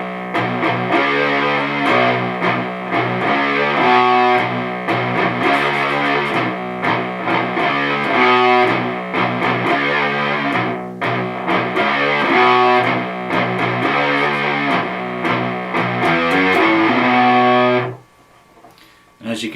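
Heavily distorted electric guitar plays a riff from a song slowly, with hammer-ons on the low strings, a steady chugging pattern that continues for about eighteen seconds before stopping abruptly.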